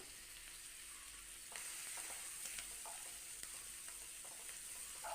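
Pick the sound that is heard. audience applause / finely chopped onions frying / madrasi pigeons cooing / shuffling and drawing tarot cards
finely chopped onions frying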